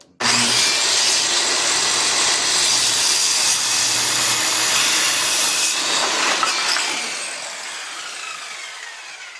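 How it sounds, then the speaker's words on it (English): A hand saw cuts steadily through a wooden board for a beginner workbench build, continuous loud rasping strokes that ease off near the end, with no talking. "line up on your line with your saw"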